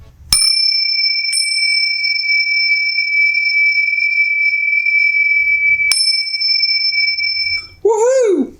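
Podcast intro bells ring out in three clear strikes, each leaving a long, steady, pure ringing tone that sustains for seconds, followed by a brief warbling chirp at the end.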